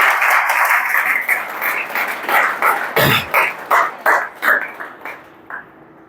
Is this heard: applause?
yes